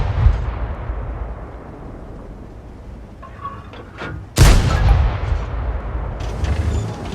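A tank cannon fires in the World of Tanks video game: one loud, deep boom with a sharp crack, followed by a lingering rumble over a steady low engine drone.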